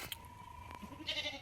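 A single goat bleats briefly at a moderate distance in a quiet rural homestead, one short wavering call over faint background.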